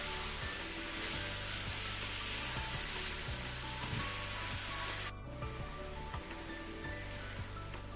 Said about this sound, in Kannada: ಈಗ ಪುನಃ ಫ್ಲೇಮ್ ಅನ್ನು ಹೈಯಲ್ಲಿ ಇಟ್ಕೊಂಡು ಇದನ್ನು ನಾವು ಒಳ್ಳೆ ರೀತಿ ಫ್ರೈ ಮಾಡ್ಕೊಳ್ಳುವ